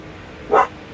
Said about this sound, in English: Dogs are barking in the background like normal.